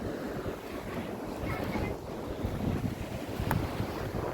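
Sea surf washing onto a shore as a steady, broad rush of waves mixed with heavy wind buffeting the microphone, with no voices.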